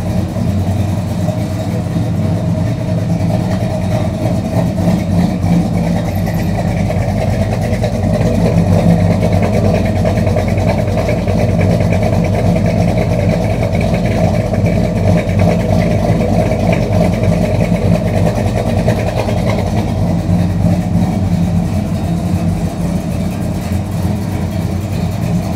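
A car engine that has sat unused for three months runs continuously, close and loud, with a steady mid-pitched rumble and slight swells in revs throughout, no talk.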